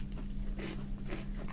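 Crisp bites into a Meiji Kinoko no yama chocolate-topped biscuit, a few short crunchy snaps close to the mic over a low steady hum, with no talking.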